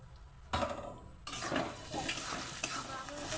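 Turmeric being stirred into vegetables frying in a pan: a steady sizzle with repeated scraping stirs, close and fairly loud, no voices.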